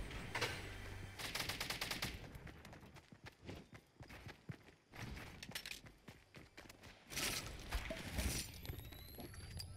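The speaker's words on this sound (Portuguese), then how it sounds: "Mano, tiro de todos os lados, velho." Bursts of rapid Fortnite Mobile gunfire crackle in clusters, with automatic volleys and scattered single shots layered over one another at varying distances.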